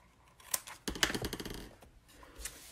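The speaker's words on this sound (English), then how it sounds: "then snip the excess" Scissors snip excess paper at a craft table, a few crisp close cuts, then a quick run of rapid snipping, then a final cut, all quiet with no talking.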